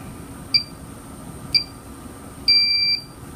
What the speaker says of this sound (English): It beeps 3 times quickly, and then 1 long beep.